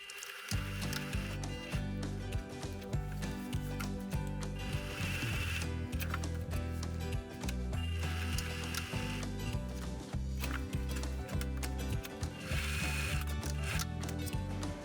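A sewing machine stitches a small square, about 0.5 cm in, around the elastic opening of a long skirt: quiet, rapid mechanical whirring and ticking in rhythmic runs with short pauses between bursts.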